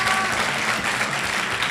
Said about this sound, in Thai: ปรบมือปรบมือหน่อย